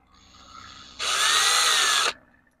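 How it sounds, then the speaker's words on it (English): A power drill whirs loudly for about a second as it bores a hole into a small fishing lure, starting and stopping abruptly, with no talking. "drill it out a little bit on each side."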